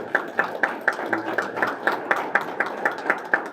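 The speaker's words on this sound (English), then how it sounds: "we'll get a round of applause for it too" Audience applause for athletics Hall of Fame inductees at a ceremony, a steady patter of hand claps with regular strong accents, moderately near and continuous throughout.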